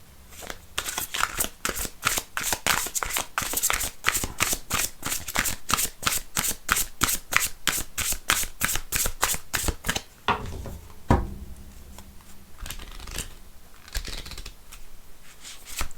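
Belline oracle cards shuffled by hand: a rapid, regular run of crisp riffling flicks, loud and close, for about ten seconds, then slower scattered card taps and slides.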